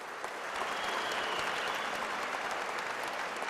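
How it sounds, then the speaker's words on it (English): Audience at the opening ceremony of the 47th International Film Festival of India giving a standing ovation, a broad, continuous roar of clapping that swells in the first half-second and holds steady, heard from a distance. "Let us all clap and give her a standing ovation for the honor she brought to our country."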